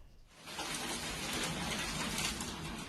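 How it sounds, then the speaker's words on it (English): Heavy rain from a sudden city downpour during a storm with hail and strong winds, a dense steady roar of drops beating on surfaces, close and loud, rising quickly after a brief quiet start and holding without any speech. "a sudden downpour hit the city, accompanied by thunder, lightning, strong winds, and hailstones"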